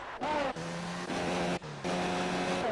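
Formula 1 car engine in the racing game F1 2019 at the Spanish GP, a loud high-pitched screaming drone whose pitch drops sharply at each gear shift, in several repeated surges, with a commentator speaking over it.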